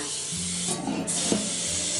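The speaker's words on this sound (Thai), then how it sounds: "วิธีเตรียมพิมพ์บันต้นก็ใช้สเปรย์น้ำมันค่ะ" Oil cooking spray hisses into a bundt cake pan in one steady, continuous spray lasting about two seconds, close and fairly loud.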